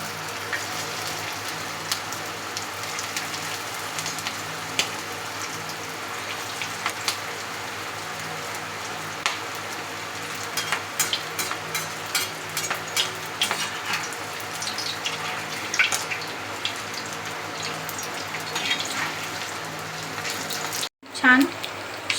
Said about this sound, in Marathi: आता एक कटलेट आपण तेलामध्ये असे सोडणार आहोत.